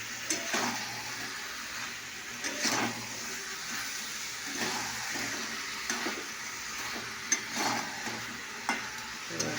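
Meat and potatoes fry in oil in a pot and get stirred, a steady hiss and sizzle with repeated scraping stir strokes, fairly close and constant throughout.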